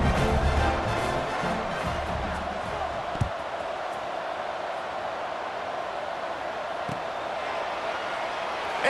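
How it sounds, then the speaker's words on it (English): Stadium crowd noise from a College Football 26 game with the Wisconsin Badgers trailing 28-14, a steady broad roar of fans building at the kickoff, with a couple of sharp thumps partway through. "this crowd now ready to get behind them"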